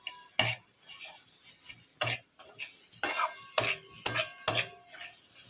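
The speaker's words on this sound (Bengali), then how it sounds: "চলুন এবার এটাকে ভাজা যাক ভালো করে, যতক্ষণ না এই র স্মেলটা চলে যায়।" Dal makhani masala fries on a high gas flame while a spoon scrapes and knocks the pan in sharp separate strokes over a low background sizzle, with no speech.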